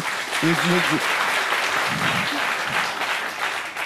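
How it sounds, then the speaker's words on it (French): Sustained audience applause at a French television talk show, dense and steady throughout, with a brief voice heard under the clapping. "Ce sont les 6 années que vous applaudissez."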